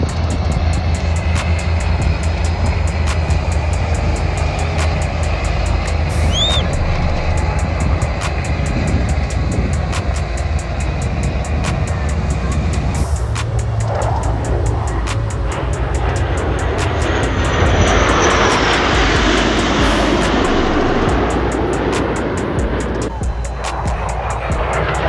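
Jet aircraft passing at an air show, a loud sustained roar that swells and shifts pitch as the planes sweep by, with crowd noise and wind in the background throughout.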